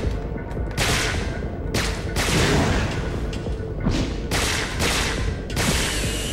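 Rapid gunfire and a flammable canister blowing up in the PS2 game Resident Evil Dead Aim, a dense run of loud overlapping shots and booming blasts lasting several seconds, with no talk.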